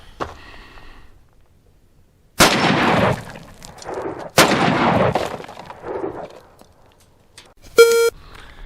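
Two loud, close Ruger Mini-30 rifle shots crack out a couple of seconds apart, each trailing off in a brief echo, with a short electronic beep following near the end.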